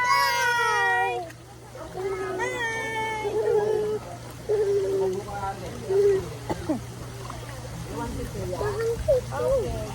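Several drawn-out cat meows sound up close, some rising and falling in pitch, mixed with human vocal sounds and a steady low hum underneath.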